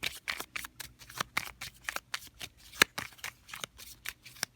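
Tarot cards are shuffled by hand close up. Quiet, quick, rhythmic slaps and riffles repeat steadily for several seconds, with no talking over them.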